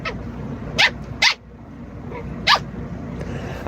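Dogs give three short, sharp barks at a home late at night, spaced irregularly over a low steady background hum, with no talking.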